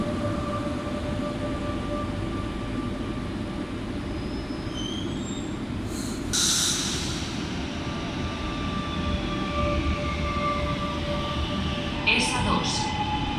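An FGC line S2 commuter train runs at Sabadell Nord station, giving a steady rumbling roar with faint tonal whines, and brief chime-like tones stand out over it.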